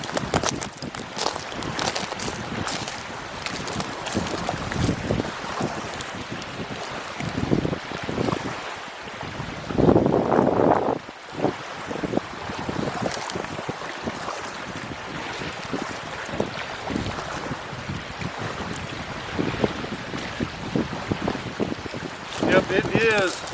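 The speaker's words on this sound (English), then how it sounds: "Yep, it is super windy out here again today." Strong gusty wind whipping across choppy open water, buffeting the microphone in loud, uneven bursts with splashing underneath and a brief voice or call near the middle.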